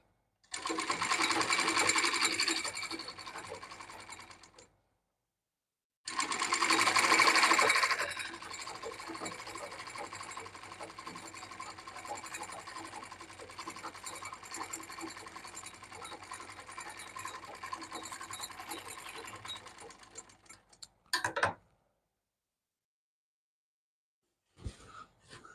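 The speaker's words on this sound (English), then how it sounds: "I'm just overlocking the other side as well." An overlocker sergs the seam on a sewn pair of shorts, a loud steady mechanical whir running in two long bursts with a short pause between, then a brief clatter and silence.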